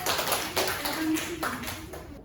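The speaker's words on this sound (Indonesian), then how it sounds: "Silakan tepuk tangan." Children in a primary school classroom clap in a few loose, uneven bursts, fairly faint and a little distant, with a brief voice underneath.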